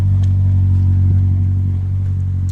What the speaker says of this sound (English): I'm going to let it idle for a while.